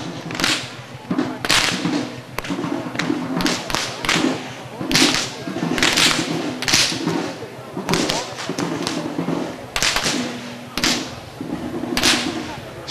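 Whip cracks at a Hungarian grape harvest festival in Halas ring out in a long irregular series of sharp, loud snaps, some in quick pairs, over a busy outdoor crowd with talk and background music.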